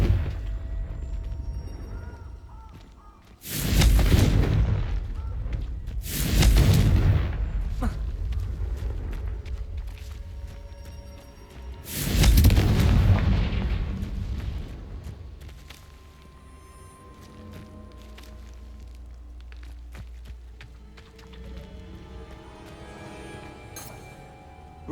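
Confringo spell explosions in the game Hogwarts Legacy come as three loud, close blasts spaced several seconds apart, each with a roaring decay, over quieter background ambience.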